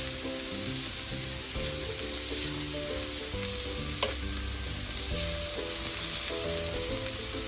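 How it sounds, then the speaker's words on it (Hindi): Ginger garlic paste frying with onions in a pan gives a continuous, close sizzle with occasional stirring scrapes and one brief clack, with no voices. "एक चमचा अदरक लहसुन का पेस्ट डालेंगे। इसे प्याज के साथ में अच्छी तरह से भूनेंगे।"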